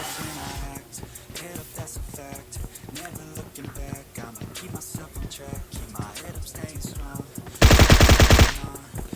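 Rapid automatic gunfire in the mobile battle royale game Battlegrounds Mobile India, bursts of sharp shots crackling in quick rhythm, ending in a loud close burst, with a voice talking over parts.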